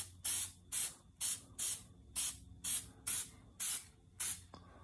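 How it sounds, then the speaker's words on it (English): Black guide coat is sprayed onto car body work of a 1988 Chevrolet Monte Carlo SS in about ten short, evenly spaced bursts of loud aerosol hiss, each cut off by a brief pause. "You just wanna barely hit it with some black guide coat on here"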